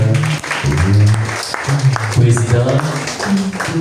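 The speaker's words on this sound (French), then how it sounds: "On applaudit le Seigneur." A church congregation at a Sunday worship service claps steadily and continuously while voices speak and sing loudly in French over it, including a birthday song, a busy indoor gathering sound.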